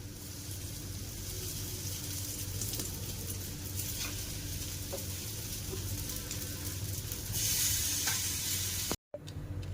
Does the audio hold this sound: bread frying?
yes